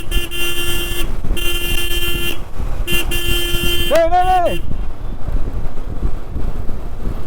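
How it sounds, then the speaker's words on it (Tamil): A car horn blares once for about half a second, loud and wavering, over steady engine and road noise with intermittent tonal hum. "நல்ல வேலை வந்து வேகமாக ஹார்ன் அடித்து பிடிச்சிட்டேன்"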